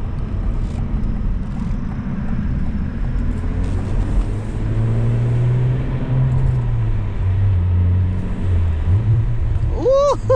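Cadillac CT4-V Blackwing engine rumbling steadily as the car drives, with a low revving tone that rises and falls through a downshift, close and loud.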